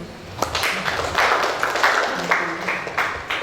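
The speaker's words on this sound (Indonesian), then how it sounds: "Kasih aplaus dulu." A small audience at a school student-council leadership session claps briefly, producing scattered, uneven hand claps of moderate loudness that rise and thin out over a few seconds.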